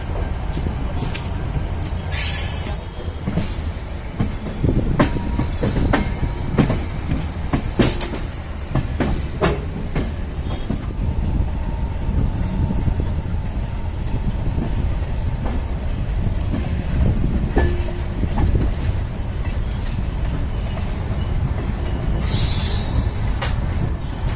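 Amritsar–New Jalpaiguri Karmbhoomi Express arriving at Moradabad station, heard from on board: a loud continuous rumble with clattering wheels, rail clicks and occasional high squeals.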